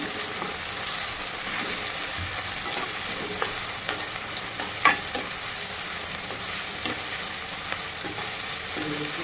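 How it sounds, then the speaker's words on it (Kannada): Onion, chili and tomato frying in oil in a pan with puffed rice for a North Karnataka mandakki mirchi recipe, a steady close sizzle with scattered scraping stirs. "ಈರುಳ್ಳಿ ಮೆಣಸಿನ್ಕಾಯಿ ಟೊಮೊಟೊ ಸ್ವಲ್ಪ ಚೆನ್ನಾಗಿ ಫ್ರೈ ಆಗಲಿ."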